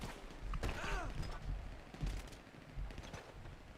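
Rapid bursts of gunfire in a zombie survival video game crackle from someone shooting overhead, a few short volleys with sharp transients over a muffled, noisy background.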